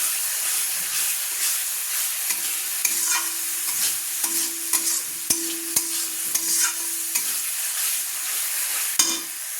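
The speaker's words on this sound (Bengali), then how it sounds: "যতক্ষণ না তেল ছাড়ে আমি ততক্ষণ মশলাটা সুন্দর করে কষিয়ে নিচ্ছি।" Spice masala fries in oil while a spoon stirs it, a constant crackling sizzle punctuated by repeated scraping knocks of the utensil against the pan, close and continuous with no talk.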